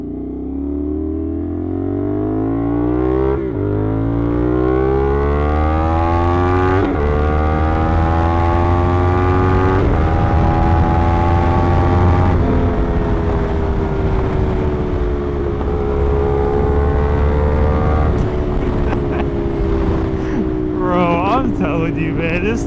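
A motorcycle engine revs and runs continuously up close, with rising and falling pitch and crackling exhaust pops near the end, while someone talks excitedly over it.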